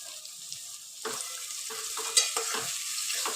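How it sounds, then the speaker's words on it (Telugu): Onions sizzle steadily as they fry in a pan toward golden brown, while a utensil stirs and scrapes through them in soft, irregular strokes. "మంచిగా గోల్డెన్ ఫ్రై కలర్ వచ్చే వరకు మనం మంచిగా ఫ్రై అయితే చేసుకోవాలి"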